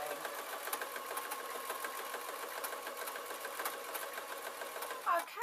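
Sewing machine top stitching a fabric snip tray, running continuously at a steady whirring pace close by, with a brief handling rustle near the end.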